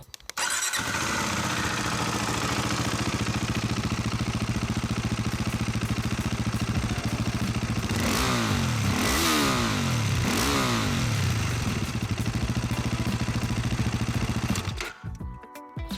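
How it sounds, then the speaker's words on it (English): A Husqvarna Vitpilen 401 single-cylinder motorcycle engine, loud and close, holding a steady thumping idle before several sharp rising and falling revs, then cutting off near the end. "The single cylinder thumper"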